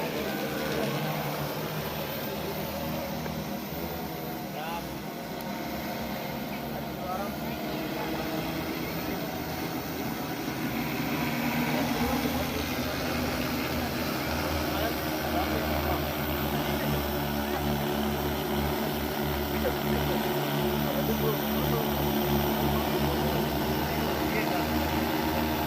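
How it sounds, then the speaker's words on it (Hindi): A large agricultural spraying drone drones steadily over terraced wheat fields, applying pesticide; its continuous rotor hum sits beneath someone talking throughout the clip. "इन गेहूं की खेती में यहाँ पे छिड़काव किया जा रहा है ड्रोन के द्वारा।"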